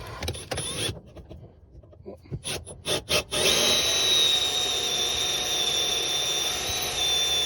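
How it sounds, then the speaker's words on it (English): A spot weld drill bores out spot welds on a Subaru drive-by-wire accelerator pedal bracket, starting with short bursts and stutters, then settling into a loud, continuous whirring grind up close, with no talking. "And drill them out with a spot weld drill."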